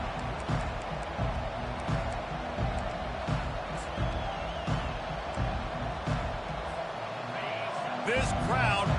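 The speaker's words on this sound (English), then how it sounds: "This crowd bringing an ear-splitting welcome to their visitors." A loud stadium crowd at a Clemson versus Oregon college football game roars steadily and continuously throughout, with a commentator talking over the din.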